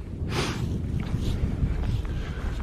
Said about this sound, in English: bit of wind coming through the valley.